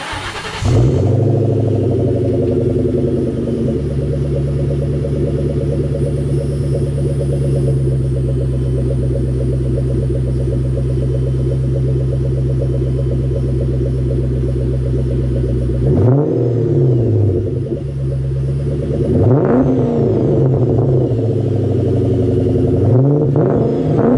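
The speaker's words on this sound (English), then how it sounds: "there can't be a Mustang video without some exhaust." A 2003 Ford Mustang Terminator Cobra starts up and settles into a loud, steady rumbling idle, then gives two sharp revs near the end, each rising and falling back to idle.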